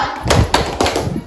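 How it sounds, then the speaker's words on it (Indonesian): A classroom group claps a short rhythmic "tepuk mantap" pattern for a student team, with a few sharp, close hand claps in quick succession. "Kita kasih tepuk mantap untuk kelompok formulir."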